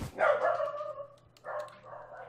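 A dog barks and yelps indoors to be let through a door, two short strained bursts of whining barks, fairly close and alone.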